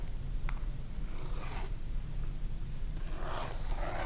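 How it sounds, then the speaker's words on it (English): A needle drawn upright through a clay slab along a template while cutting pieces for a ceramic house, giving soft, close scratchy scraping strokes over a low steady background hum. "when you cut, you hold your needle up as straight as you can"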